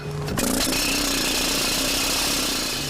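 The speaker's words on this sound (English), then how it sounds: "It's a pneumatic post pounder." A pneumatic post pounder drives a sign post, putting out a loud, rapid, continuous mechanical hammering that starts with a sharp hit and carries on steadily, with no talk.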